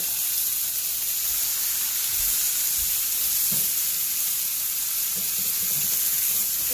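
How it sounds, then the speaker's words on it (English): Potatoes for mash boil in a pot on the stove, a constant loud hissing bubble that runs unbroken throughout with faint low knocks underneath. "the mashed potatoes are already starting to boil, so I'm going to lower the heat to medium so it doesn't boil over."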